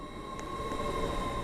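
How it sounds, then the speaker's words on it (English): A train pulls into a platform at a video-game railway station, a low rolling rumble that builds steadily, with a steady electronic tone running through it. "The train now approaching platform 2 terminates here."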